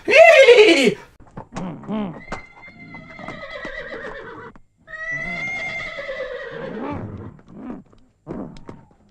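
A human voice imitates a horse neighing: several drawn-out, wavering whinny cries, loud and close, separated by short pauses, with one sharp burst at the start.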